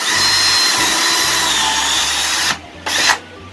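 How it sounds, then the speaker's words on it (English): A power drill countersinks holes in a 2x4 board with a loud, steady whine that runs close up, then stops and starts again briefly near the end. "we countersink our holes."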